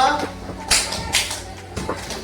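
Bare hands clap sharply a couple of times in a counting clapping game, the crisp claps standing out over soft background voice and room sound.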